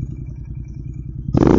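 A modified Royal Enfield GT650 motorcycle engine idles with a steady, low, pulsing thump close by, then swells abruptly louder near the end as the throttle opens.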